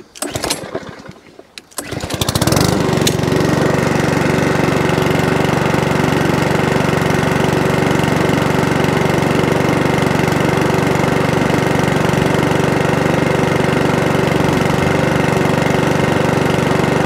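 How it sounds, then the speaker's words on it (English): A petrol lawnmower engine running on E10 fuel: after a few rough seconds of starting, it settles into a loud, steady, droning run close by that continues to the end. "So the E10 one started, but it started with more pulls."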